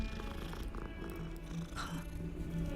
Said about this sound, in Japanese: 猫かわいい。